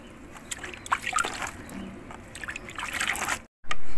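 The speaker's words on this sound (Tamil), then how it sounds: "இப்போ தண்ணி தெளிச்சுக்கலாம்." Water sprinkled by hand over freshly sown drumstick (moringa) seeds, a soft patter of trickles and drips that goes on for about three seconds, then a brief silence and a louder burst at the end.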